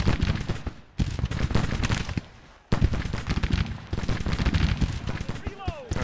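Artillery fires in the Civil War strategy game Grand Tactician: The Civil War. Dense, rumbling cannon volleys and crackling gunfire roll on in loud bursts, broken by two short lulls.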